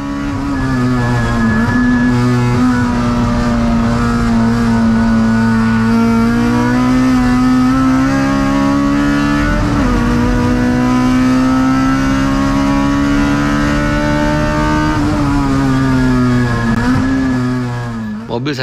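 A race car's engine drones loud and close from inside the cockpit during the Sepang 300 km endurance race in the rain. The car has no ABS, and the steady roar dips briefly twice as the pitch shifts.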